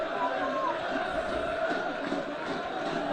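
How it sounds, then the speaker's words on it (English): A football crowd behind the goal at a Wealdstone v Aldershot Town National League match sings a chant for striker Jack Barham, a dense, steady roar of massed voices that stays loud throughout under a commentator's voice. "the crowd behind the goal rise to serenade Jack Barham"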